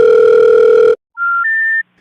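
Telephone call to an unreachable number: a loud steady tone lasts about a second, then a short pause gives way to two fainter, higher notes that step upward, the signal for a number that cannot be reached.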